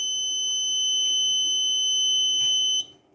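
A gate control system alarm sounds a high electronic tone continuously and steadily, with faint background noise, then cuts off abruptly near the end.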